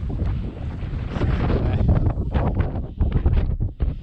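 Strong wind buffets the microphone while cycling into a headwind, a loud continuous rumbling roar with gusty surges.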